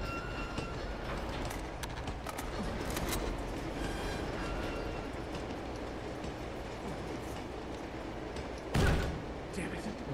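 Train rolling on tracks in Uncharted 2: Among Thieves, with a steady rumbling roar, rhythmic clickety-clack and a heavy thump near the end, under a voice.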